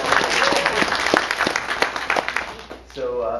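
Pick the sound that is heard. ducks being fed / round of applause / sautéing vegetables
round of applause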